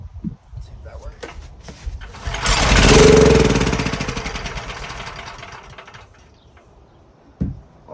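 A used secondhand generator engine is pulled over and catches, rising into a loud rough running roar that peaks and then fades back down, with knocking and clattering before and after.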